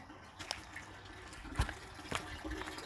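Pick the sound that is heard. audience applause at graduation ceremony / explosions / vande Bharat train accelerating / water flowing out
water flowing out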